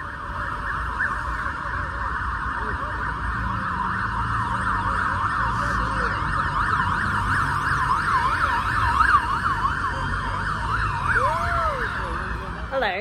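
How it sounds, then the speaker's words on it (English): Wailing emergency sirens rise and fall continuously, fairly loud and a little distant, over a low background of traffic. "but there's some sirens going on."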